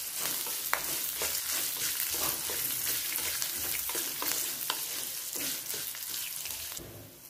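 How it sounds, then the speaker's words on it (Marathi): Peanuts roasting in a pan with chilli and asafoetida sizzle steadily while a spoon stirs and scrapes in frequent close strokes, no talking. "शेंगा छान भाजूपर्यंत भाजायचं।"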